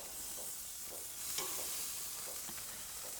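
Marinated mushrooms sizzle on a very hot grill with a steady close hiss and a few soft taps and clinks as they are set down, and no talking.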